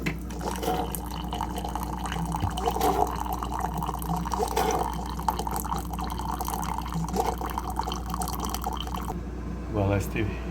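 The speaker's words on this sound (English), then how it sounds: "So I'm going to just dump this into the sink" Vinegar from a Keurig coffee maker is poured into a sink, a continuous liquid trickle and splash under a steady low hum, with a person speaking over it.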